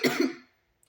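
A single raspy, close cough after water went down the wrong pipe, strong at first and fading quickly into silence.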